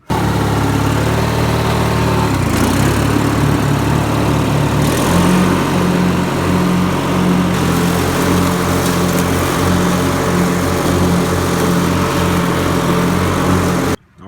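A Craftsman riding lawn mower engine with a freshly rebuilt 42-inch deck runs steadily and loudly up close, its idle shifting once early on before settling into an even drone until it cuts off.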